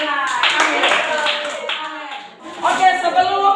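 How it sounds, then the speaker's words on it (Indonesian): A class of schoolchildren in an Indonesian classroom claps together in a brisk burst, with children's voices calling out over the clapping. "Ya, tepuk tangan untuk Andila."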